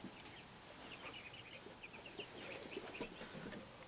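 Chickens cluck and call close by on a homestead where a tiny house is being sided, with short repeated bird calls over a quiet outdoor background and no talking.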